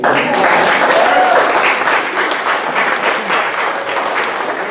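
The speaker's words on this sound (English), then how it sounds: "He deserves a round of applause." A cricket awards audience in Bermuda breaks into loud, sustained applause, dense clapping filling the room evenly for several seconds with a faint murmur of voices underneath.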